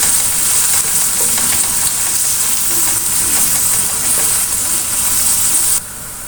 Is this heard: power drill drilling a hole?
no